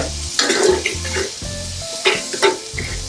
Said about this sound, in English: And we're going to give that a quick stir.